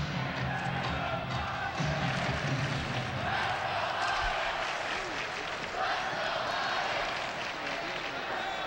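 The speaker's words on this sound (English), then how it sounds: "A chant of "Let's go Lions" rises from the crowd to our left" A crowd at a high school hockey final in an arena chants "Let's go Lions," a rhythmic roar of many voices from one side, steady and broad under a commentator's talk.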